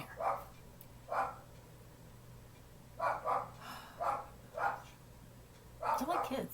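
A dog barks in a handful of separate, fairly close woofs spaced irregularly, with a quicker cluster of barks and a whimpering yip at the end over a low steady hum.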